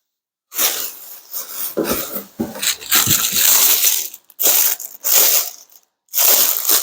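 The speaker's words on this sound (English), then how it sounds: "Big plastic bags for big prints." Big plastic bags for large art prints being handled and crinkled in a studio, loud rustling and crushing bursts in several bouts with short silent gaps, no talking.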